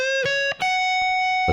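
Distorted electric guitar playing a short lick from a song solo, with a few picked notes and a sustained bent note ringing out clearly on its own.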